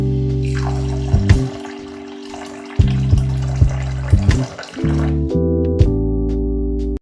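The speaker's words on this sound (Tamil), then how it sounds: "ஜவ்வரிசிய ஃபர்ஸ்ட்டு தண்ணி ஊத்தி நல்லா அலசி எடுத்துக்கிட்டு" Water poured and swished over sago pearls in a bowl while rinsing them, a close, continuous running-water wash with sloshing bursts and clinks, no talk.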